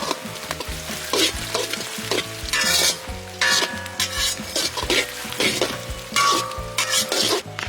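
Dried red chillies and cut coconut fry in hot oil with a steady crackling sizzle, while a spoon stirs and scrapes the pan in repeated rhythmic strokes, close up and without talking.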